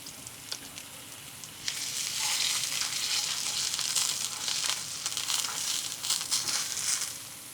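A steak filet sears in a pan, turned onto its filet side for browning, for an Italian rosemary bistecca. Close, loud sizzling swells after a softer start and holds steady, with no voices over it.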